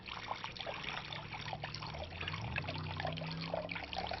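Water pours steadily into a pickling brine of salt and vinegar for home-pickled vegetables, a continuous close trickle with no speech over it.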